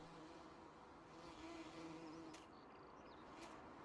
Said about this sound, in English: Bees are buzzing around like crazy.